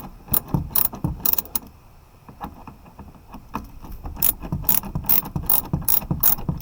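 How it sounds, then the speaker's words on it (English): Hand ratchet tightening mud flap bolts on a 2020–2021 Toyota Corolla Hybrid, loud close clicking in rapid bursts separated by short pauses, with light metallic knocks in between. "here's now where I use my ratchet"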